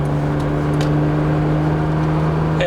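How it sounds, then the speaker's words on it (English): Nissan Stagea engine drones steadily from inside the moving car, a close, loud, even hum with constant tone, and a brief rising whine near the end. "just so that we can hear what that engine sounds like."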